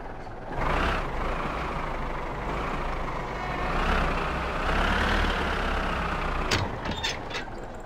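A tractor engine in the My Summer Car video game runs steadily with a loud, rumbling drone that swells and eases as it works, ending with a few sharp metallic clanks.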